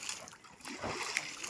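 Water splashes and sloshes nearby, irregular and fairly soft, with voices faintly mixed in.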